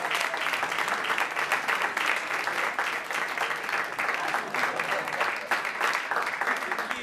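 Steady audience applause with scattered cheers for comedian Robert Keller at a live comedy show, sustained and dense throughout without a break.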